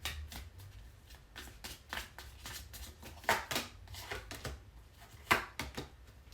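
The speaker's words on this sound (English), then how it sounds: "Every time I look at the bottom of the deck, and I've shuffled this multiple times" A tarot card deck is shuffled by hand in close, quiet riffles and slides, with irregular crisp bursts of card flicks and two sharper snaps.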